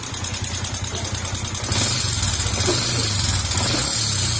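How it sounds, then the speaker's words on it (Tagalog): A Yamaha Sniper 150 motorcycle with a noisy engine and smoky exhaust idles steadily with a low, even putter, growing slightly louder partway through as it settles into a fuller rumble. "Okay, yan yung tunog ng makina."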